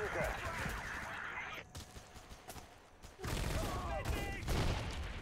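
Gunfire in the EWA infantry video game, with crackling volleys of shots that fade briefly and then return denser, heard up close amid busy battle noise.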